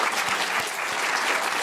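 Auditorium audience applauding steadily at a public event at Yale, a dense, even wash of many hands clapping at close range with no talk over it.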